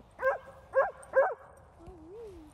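Dogs in a dog park give three quick, evenly spaced barks close by, followed by a soft, wavering whine.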